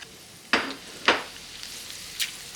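Shallots dropped into hot oil and butter for a stir-fry, two sharp sizzling bursts followed by a softer frying hiss and a brief later crackle, close by.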